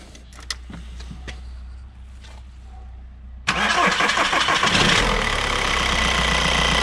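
A VW/Audi 1.9 TDI 110hp diesel engine with hard-starting trouble is cranked and catches, a few faint clicks giving way to a sudden loud start that settles into a steady, rough idle, close by with no talking.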